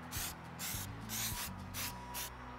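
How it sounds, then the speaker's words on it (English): Stone-textured spray paint hisses from an aerosol can onto pumpkins outdoors, in about five close, loud bursts of roughly a third of a second each, separated by short pauses. "And now I'm gonna spray them all with some stone-textured spray paint"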